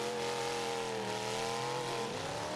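A demolition derby car's engine refires and revs hard in the arena, a loud, continuous roar with wavering pitch and no talk over it.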